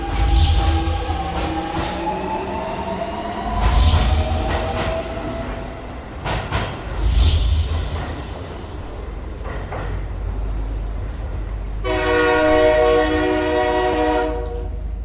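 Train rolls past with a long horn blast near the end, steady rumble and clatter of rail cars throughout, loud and close, no voices.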